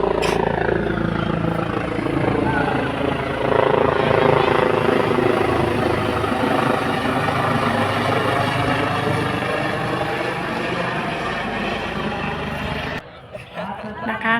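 A helicopter circles low three times over a Thai temple, its loud rotor thrum and engine whine steady and close throughout, with people talking in the background before the sound cuts off near the end.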